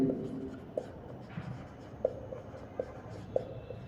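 A pen writes on paper while working a physics numerical problem, giving soft close scratching strokes with a few sharper taps spaced through a quiet room, and no talking.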